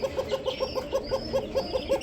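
A pigeon calling nearby in a fast, even series of short cooing pulses, about five per second, clear and fairly loud with faint background noise.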